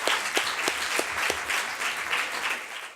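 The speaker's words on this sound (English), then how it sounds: "so we get a round of applause" A room full of students gives a round of applause for a candidate at a union question-time event, a dense, moderately loud burst of clapping that holds steady for a few seconds and thins slightly at the end.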